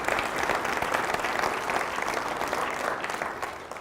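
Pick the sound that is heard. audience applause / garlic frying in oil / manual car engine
audience applause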